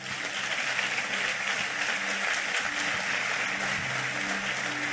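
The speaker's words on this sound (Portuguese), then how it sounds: "Aplauda o Senhor." A church congregation applauding, a continuous dense wash of clapping that holds at an even level throughout, with a low hum and faint voices underneath.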